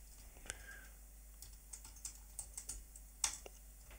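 Computer mouse and keyboard clicks in a quiet room during audio software setup, a scattered series of sharp, close clicks and taps over a low steady hum.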